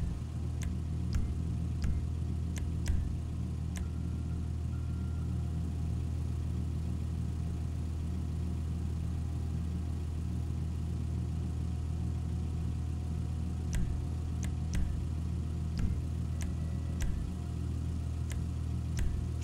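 A custom-built car in Grand Theft Auto V idles with a steady mid-pitched engine hum for about twenty seconds, broken by a few brief sharp clicks and small blips of revving, heard alone without talk.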